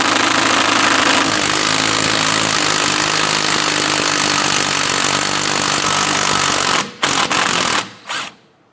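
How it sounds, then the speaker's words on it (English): A 13mm socket on a power tool spins off a sway bar bolt underneath a 2006-2013 Chevrolet Impala, making a loud, sustained whirring rattle that cuts out abruptly with a couple of short final bursts. "I'm going to use a 13mm socket on the bottom. I'm going to remove this bolt."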